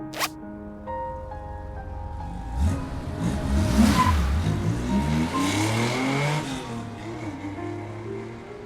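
A car pulls away in the video game Love and Deepspace, its engine revving up with a rising, sweeping whine that swells and holds, loud and close, over a soft musical bed, with no speech.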